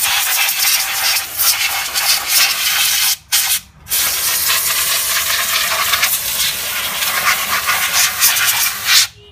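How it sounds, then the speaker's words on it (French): A can of compressed air sprays onto the parking brake parts of a Hummer H2, a loud close hiss of sustained bursts with two brief pauses. "j'ai pris une bombe d'air, hein, tout simplement, et un beau coup de nettoyage"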